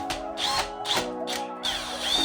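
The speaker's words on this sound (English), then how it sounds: "Here, I'm drilling out the remainder of the old fasteners that are in the airbox" A drill bores out old fasteners from the airbox of a Porsche Panamera Turbo, coming in several short whirring bursts with brief pauses between them, close up and moderately loud.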